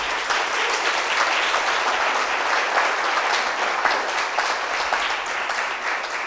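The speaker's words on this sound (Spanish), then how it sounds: "Y le vamos a dar otro fuerte aplauso al maestro Armando Alfonso Jiménez." An audience at a human rights conference gives a loud, sustained round of applause for an honored speaker, many hands clapping in a dense, even wash with no voices standing out.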